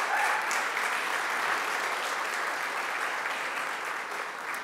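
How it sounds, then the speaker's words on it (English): Sustained audience applause at an annual awards ceremony and party as the incoming board chair stands, dense even clapping from a large crowd at a constant level. "So please give Ryan a round of applause"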